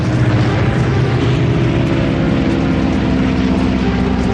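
A Grumman Wildcat fighter plane levels out behind a Japanese Zero in a dogfight, its steady engine and propeller drone loud and constant throughout, with no speech.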